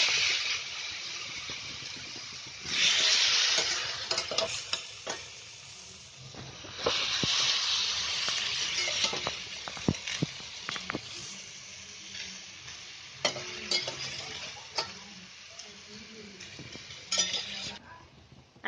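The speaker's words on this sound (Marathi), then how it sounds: "आता हे भाज्या टाकले ना त्याची चांगली फ्राय होईल" Mixed vegetables frying in masala for Konkani-style Shahi Navratna pulav, with a steady hiss and sizzle, repeated scraping and clinking of a metal slotted spoon against the pot, loud and close with no talking.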